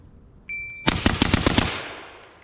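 Six rapid rifle shots from a rifle fitted with a PRI adjustable gas block, fired for speed in one loud, tight burst that ends in a decaying echo, preceded by a brief electronic beep.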